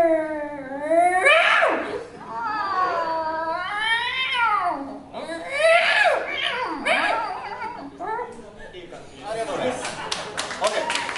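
On stage at a live event, a person imitates a threatening, fighting cat, making a run of rising and falling yowls and growls, then ending in harsh hissing bursts, loud and close.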